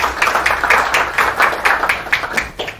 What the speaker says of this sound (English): Please, nice round of applause for Rosa, Koire.